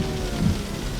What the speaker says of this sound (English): I shouted over the pounding rain